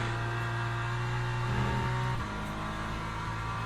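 GT3 race car in a Le Mans racing video game, its engine holding a steady loud drone with a brief pitch shift mid-clip, continuous with no talk.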